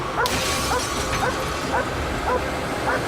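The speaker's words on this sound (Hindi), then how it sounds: "इस कार पर भौंक रही है" A dog barking at a car in short repeated yips and barks, about five evenly spaced calls over a loud, steady outdoor rumble.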